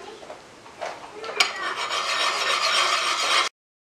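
A brush axe edge is rubbed with an oiled sharpening puck, producing a close, steady rasping scrape that builds after a few short strokes and then cuts off abruptly.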